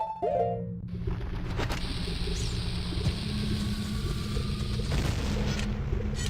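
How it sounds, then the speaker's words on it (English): Explosion in the video game Zelda: Ocarina of Time, a loud booming blast followed by a sustained rumbling roar with layered game effects and a rising tone, heard alone without voices. "Cool guys don't look at explosions."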